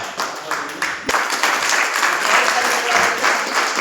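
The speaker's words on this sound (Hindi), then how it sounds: "खड़े होकर ताली बजाएं, खड़े होकर।" A crowd applauds steadily, a dense wash of clapping that swells after a brief lull and holds strong to the end.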